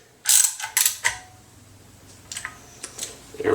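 A ratchet snugs down the camshaft bearing cap bolts on a BMW E36 engine, giving several short bursts of rapid clicking close by, with brief pauses between them.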